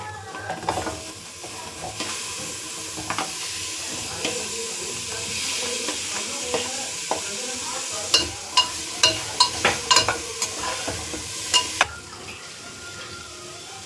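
Mixed vegetables for pav bhaji sizzle in a pan as they are stirred, a steady close hiss with sharp clacks of a spoon against the pan in the middle.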